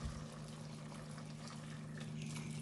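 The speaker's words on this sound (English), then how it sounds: "So now I'm going to add some more water" Water pours steadily into a pot of stewing tripe, a faint, continuous trickling splash over a low kitchen hum, with nobody speaking.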